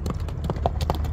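A horse galloping, its hooves striking in quick, uneven clip-clop beats nearby, brief and fairly loud over faint background noise.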